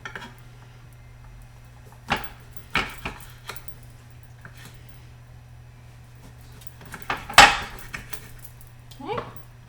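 Kitchen knife cutting a lime into wedges on a board: several separate sharp chops and taps spaced seconds apart over a low steady hum.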